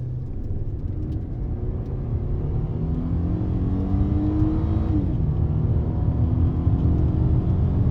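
A Holden Ute is pushed hard from inside the cabin, its engine droning as the pitch climbs steadily, drops at a gear change, then builds again in a continuous loud roar.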